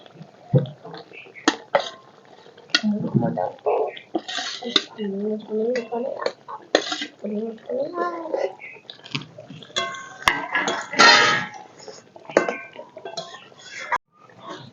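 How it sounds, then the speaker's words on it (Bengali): Fried fish goes into bubbling gravy in a pan for fish kaliya, with clinks of metal utensils against the pan, scraping and soft sizzling, and someone talking at intervals. "এখন দিয়ে দিব ভেজে রাখা মাছ"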